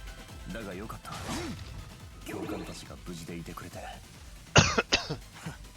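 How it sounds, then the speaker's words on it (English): A man coughs in two or three sharp, loud bursts close to the microphone while playing The Legend of Heroes: Trails of Cold Steel IV, right after a stretch of his own talking over game music. "Sorry for coughing."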